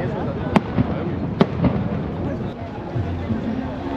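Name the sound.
fireworks at the arrival village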